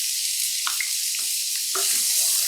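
Half a cup of chopped onions hits about a tablespoon of hot olive oil in a pan for black bean tacos, a steady bright sizzle with a few soft scraping stirs.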